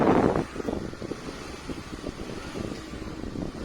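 A stock 2014 Volkswagen Polo 1.2 MPI engine lightly revved, a low, uneven idle hum that swells gently in short pulses after a brief louder burst at the start, close by with no talk.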